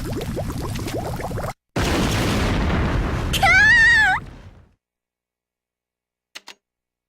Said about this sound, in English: It seems to have exploded.